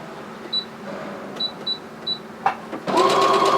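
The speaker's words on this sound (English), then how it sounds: "No, we're stitching in the same place." A Brother SE400 embroidery sewing machine stuck stitching in place, with a few short mechanical clicks and beeps followed by the motor whirring into a steady, close running hum.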